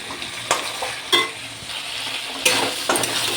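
Chickpeas, peas and boiled potatoes sautéed in a pan for a mutton-fat curry, a steady close sizzle broken by several sharp scrapes and stirs of a spatula.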